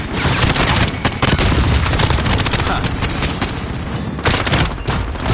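A grenade blast and gunfire in a video game, a loud continuous barrage of shots and booms with a voice calling out over the fighting.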